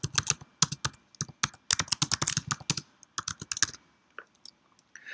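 Rapid bursts of keystrokes on a computer keyboard while a line of Swift code is written, crisp close clicks in quick uneven runs with short pauses, tapering to a few scattered taps, and no talking.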